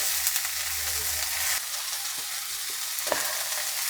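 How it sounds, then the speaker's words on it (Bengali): Bottle gourd greens fry in a pan for a mash, a soft, steady hiss with a few faint stirring clicks, fairly quiet and without talk. "ভাজা হয়ে গিয়েছে"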